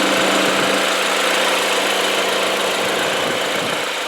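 A turbocharged 2.0-litre four-cylinder engine in a 2013 BMW X1 sDrive28i runs steadily at close range, a dense, even mechanical hum with no one talking.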